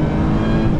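Lotus Emira V6 with a manual gearbox being revved out in second gear, a brief loud steady engine roar with no voices.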